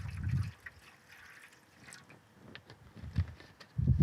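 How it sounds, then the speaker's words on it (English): Distilled water poured into a photo tray for rinsing cyanotype chemistry gives soft splashing and trickling, with a few low gurgling bursts at the start and end and quieter dribbles between. "I'm just pouring water in here. This happens to be distilled water,"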